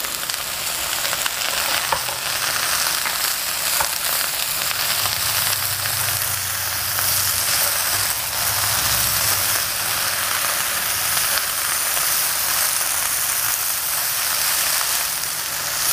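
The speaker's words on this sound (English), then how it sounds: "you want the spices to cook in the oil that is coating the vegetable" Okra coated with spices, ground coriander and sugar fries in hot oil, a constant close sizzle and crackle with occasional stirring scrapes, no voices over it.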